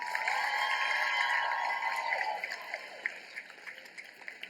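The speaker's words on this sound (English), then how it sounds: "Can we get one last round of applause for these graduates?" An audience at a graduation ceremony applauds the graduates, a dense crackle of clapping that thins into scattered claps as it fades.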